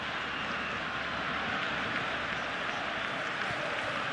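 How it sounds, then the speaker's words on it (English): Stadium crowd noise from the football video game PES 20 during a Barcelona versus Newcastle Champions League match, a steady dense roar of fans with clapping throughout. "The crowd are calling for this to be put to bed."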